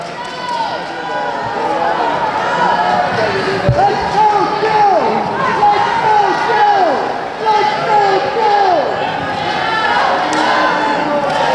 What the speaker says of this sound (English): The crowd is cheering him on.